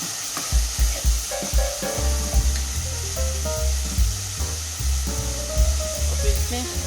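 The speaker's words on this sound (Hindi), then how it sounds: "चिकन डालने के बाद हम इसको अच्छे से फ्राई कर लेंगे।" Chicken pieces frying in a pan for a chicken stew, a constant close hiss and sizzle with occasional stirring, while soft background music plays underneath.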